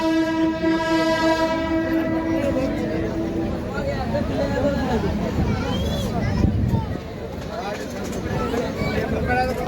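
Busy platform at Kurduwadi railway station in India, with a train horn blaring at first, then steady crowd chatter and the rumbling of the Parli–Sangli DEMU Express throughout.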